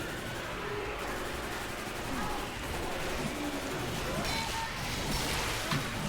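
Gunfire in the Left 4 Dead 2 video game, a dense bed of distant shots and bursts mixed with in-game noise, fairly faint and continuous over about six seconds.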